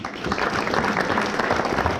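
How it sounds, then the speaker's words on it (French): Brief burst of steady audience applause at a live comedy show, dense clapping lasting about two seconds at moderate volume. "On applaudit encore Mika, s'il vous plaît, quel talent!"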